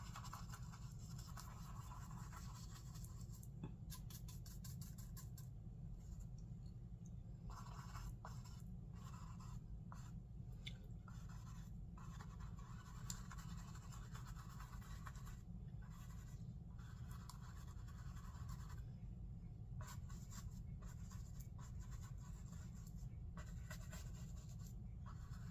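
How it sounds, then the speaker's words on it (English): Dry paint brush feathering the edges of a mixed media painting, a soft continuous scratchy brushing texture with short strokes, close and quiet against a steady low background hum. "Dry that brush off. Let's feather the edges a little bit."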